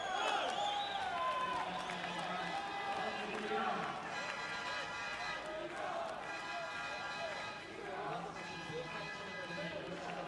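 Inside a volleyball arena, an Iranian crowd roars and cheers continuously during a men's Olympic qualification match between Iran and France. Shrill whistles and horns rise above the steady crowd noise, and a commentator talks over it.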